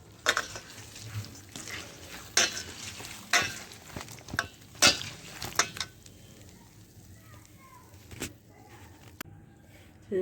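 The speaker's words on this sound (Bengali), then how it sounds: "সয়াবিন বড়িগুলো এই ধুয়ে রাখছি, আর এই দেখেন জল বেরিয়েছে কেমন" Soya chunks (soybean nuggets) are washed by hand in water in a bowl, making a run of wet squishing, sloshing and light clattering bursts, close and irregular, that thin out toward the end.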